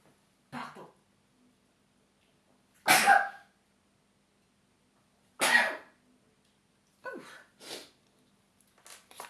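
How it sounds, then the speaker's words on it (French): Several separate sneezes and sneeze-like bursts break an otherwise quiet room, loud and close, spaced a couple of seconds apart with a few quicker ones near the end. "quand tu éternues comme ça"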